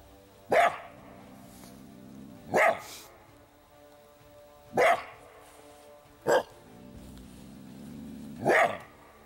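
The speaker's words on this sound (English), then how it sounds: "Well, we got our coyote. He's all muddy." A muddy coyote held in a dirt hole trap in Alabama gives five sharp, separate barks spaced about two seconds apart, each loud and close against a quiet background.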